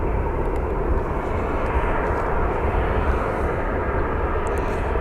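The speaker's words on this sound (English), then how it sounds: "So we are looking at American Airlines 737 that is headed to Raleigh-Durham" An American Airlines Boeing 737 at Phoenix Sky Harbor airport gives off a loud, steady broadband engine roar for five seconds, with no talking.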